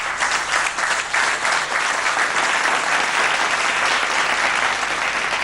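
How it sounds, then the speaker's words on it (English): An audience at an innovation awards ceremony gives sustained, thunderous applause, a dense wall of clapping hands that stays loud and even throughout, without speech breaking through. "give him a thunderous round of applause"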